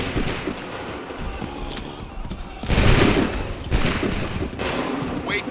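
Musket volleys in Assassin's Creed 3, with dense gunfire and two big crackling volleys bursting out a second apart over ongoing battle noise.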